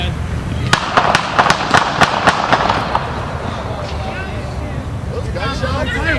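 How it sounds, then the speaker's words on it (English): Gunshots at night in a Chicago neighborhood: a rapid burst of about a dozen sharp cracks over two seconds, fairly near, with background noise and brief voices afterward. "Those are gunshots."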